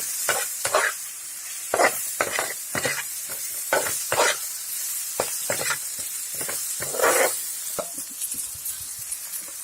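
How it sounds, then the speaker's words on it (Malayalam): Masala and ingredients for fried chicken sizzle in a pan while being stirred, giving repeated scraping and clattering strokes over a continuous frying hiss, close up and without talk. "ഇതെല്ലാം കൂടെ നല്ലപോലെ ഒന്ന് ഇളക്കി ഒന്ന് മിക്സ് ചെയ്യണം."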